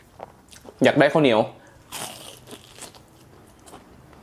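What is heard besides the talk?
biting crunchy Thai fried pork skewer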